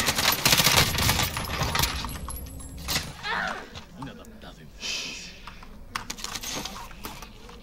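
Call of Duty Warzone gunfire with an AK47 crackles in rapid bursts of sharp shots, densest at the start and then scattered, mixed with game sounds while someone talks over it.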